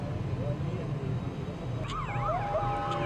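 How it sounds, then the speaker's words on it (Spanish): A wailing ambulance siren rises and falls behind a voice amid the street rumble of earthquake-hit Ecuador in 2016, with the siren becoming clearer toward the end. "El ir y venir de las ambulancias era constante."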